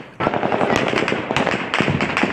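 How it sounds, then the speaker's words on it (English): Rapid bursts of automatic gunfire from Taliban fighters near Kabul airport, pushing back crowds; dense, loud, crackling volleys with short pauses, fired continuously across the whole stretch. "Rapid gunfire as Taliban bullets push back desperate crowds from Kabul's airport."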